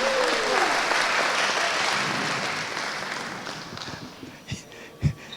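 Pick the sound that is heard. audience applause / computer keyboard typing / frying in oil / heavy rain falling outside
audience applause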